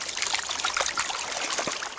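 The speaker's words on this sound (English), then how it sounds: "with flower gold, you're better off just pouring it off like that" Water pours steadily off a gold pan during panning for fine flour gold, making a continuous close splashing trickle with no voices.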